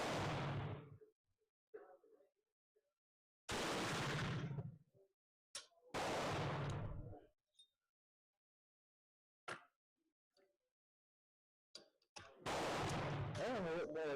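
Several loud, sharp rifle shots from a Danish rolling block in 11.7 caliber, fired one at a time with long quiet gaps between them and a brief burst of talk near the end.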